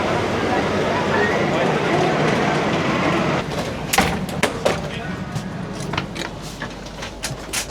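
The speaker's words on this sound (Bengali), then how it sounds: "ট্র্যাকে আমাদের ট্রেন ঢুকে গেছে আর মানুষজন উঠছে" Platform bustle as the Poorva Express arrives on its track at a busy station, with a steady murmur of passengers and clustered thuds and door bangs from boarding in the second half, nearby and moderately loud.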